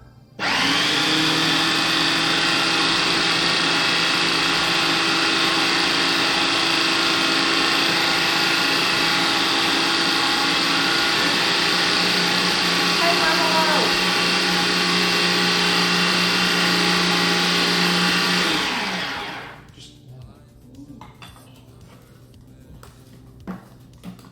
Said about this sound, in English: Only Aaron would dance to the rhythm of the blender